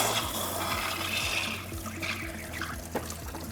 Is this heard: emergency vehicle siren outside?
no